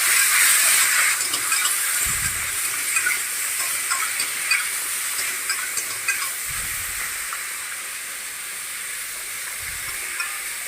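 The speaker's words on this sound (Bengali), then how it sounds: "তারপর কাঁকরোলগুলো হালকা ভেজে নেব, পুরোটা ভাজবো না।" Spiny gourd (kakrol), rubbed with salt and turmeric, frying lightly in oil in a pan: a steady soft sizzling hiss runs throughout, with a few faint low stirring knocks and no talking.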